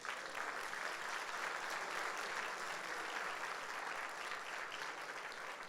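A church congregation claps together in a steady, even burst of applause that lasts throughout, fairly distant and soft, with no talking over it.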